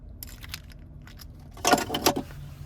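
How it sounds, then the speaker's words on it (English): A 2023 Nissan Titan XD key fob with remote start jangling on its key ring, a few close metallic clinks in a quiet vehicle cabin, no talk. "here is our key fob with remote start"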